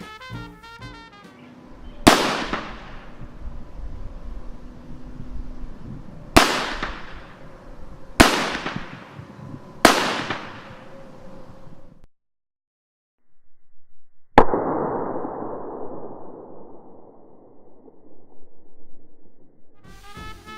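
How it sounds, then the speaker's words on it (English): Several sharp, very loud gunfire bangs from a sound effect machine ring out outdoors, four in quick succession, then a pause before one more crack with a long rumbling decay. "we had to go outside because it's a very loud, actual gunfire"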